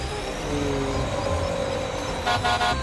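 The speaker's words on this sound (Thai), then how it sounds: "เสียงท่อมันก็ลั่นซะเหลือเกินนะผมนะ" A loud, continuous tractor exhaust drone from the video game Farming Simulator 19 fills the clip, with a few short horn-like toots near the end.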